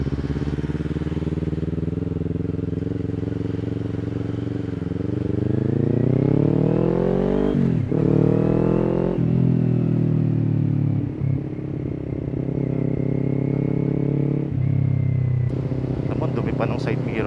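A Kawasaki Ninja 400 motorcycle engine drones as the bike rides along at night, its pitch rising and falling through gear changes and throttle, loud and close throughout.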